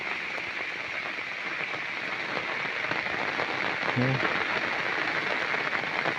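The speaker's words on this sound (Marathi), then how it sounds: "सगळीकडे पाऊस आहे" Steady rain falls over rice fields in a dense, even hiss that holds from start to finish, with a brief low tonal sound partway through.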